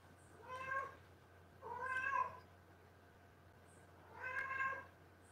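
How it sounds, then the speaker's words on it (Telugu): A cat meows three times in slow, drawn-out, tired-sounding calls with pauses between them, fairly faint against a quiet low hum and heard alone with no talk. "పిల్లి పిల్లి పిల్లి అరుస్తుంది"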